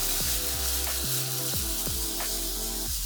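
Tomato pasta sauce with a crumbled stock cube stirred in a pan, steady sizzle under repeated scraping strokes of the spoon, close and continuous with no talking.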